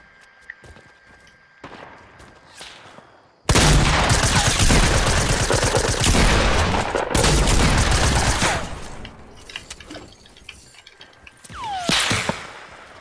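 Video game gunfire erupts suddenly after a quiet stretch, a loud sustained barrage of rapid shots lasting several seconds before thinning out into scattered fainter shots.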